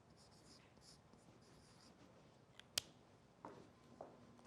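Pen or pencil scratches faintly on paper while notes are set up, soft strokes with a couple of sharper taps, quiet and close against a low background hiss.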